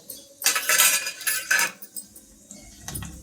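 A metal spoon scrapes and clinks against a pan in a few quick bursts of stirring spices and asafoetida for gongura chutney, close up, with a soft sizzle underneath.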